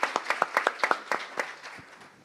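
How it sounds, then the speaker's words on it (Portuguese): A small audience at a corporate mental-health analytics talk gives a short round of applause: a handful of distinct, close claps that quickly taper off into quiet. "Muito bom, salva de palmas para a Mari."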